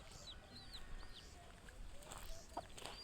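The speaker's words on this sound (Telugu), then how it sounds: "మా కోడి పిల్లలు" Chickens and their chicks cluck and peep around a backyard garden beside a newly built wall, with soft chirps scattered over faint background noise and a couple of sharper calls near the end.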